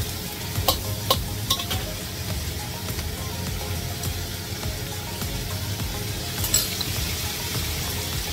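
Food stir-frying in a hot pan after a splash of cooking wine, a steady sizzle under scraping and stirring with a few clinks of a utensil against the pan, close, no talking.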